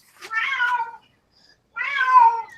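A cat gives two drawn-out meows or yowls separated by about a second of silence, each close and clear with no voices.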